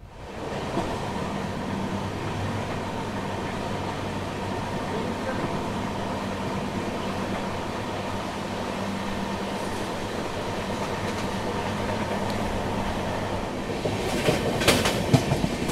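Pushpak Express train, bound from Mumbai to Lucknow, runs on tracks after leaving Nashik toward Manmad Junction. It gives a steady, close rolling rumble with a faint rhythmic clatter and sharper clicks near the end.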